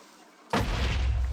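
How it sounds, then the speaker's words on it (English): A Minecraft creeper explosion bursts suddenly after a quiet moment into a loud, rumbling boom that keeps roaring to the end. "none of the explosions will do damage to us at all"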